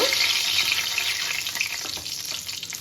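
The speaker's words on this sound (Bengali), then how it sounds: "আমার তেল গরমও হয়ে গেছিলো এবার এর মধ্যে আমি হলুদ লবণ মাখানো আলু সেটা দিয়ে দিলাম" Potatoes coated in turmeric and salt drop into hot oil in a pan for mutton curry and fry with a loud, dense sizzle. The hiss is close and continuous and eases slightly over a few seconds.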